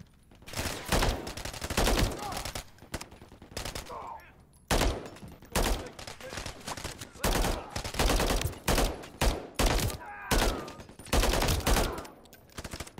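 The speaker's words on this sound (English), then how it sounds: "I think we got an automatic turret." Automatic turret gunfire in Call of Duty: Modern Warfare III, loud rapid bursts of shots repeating in quick volleys across the whole stretch, with no talking.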